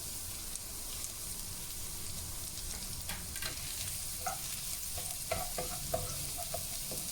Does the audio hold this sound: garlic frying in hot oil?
yes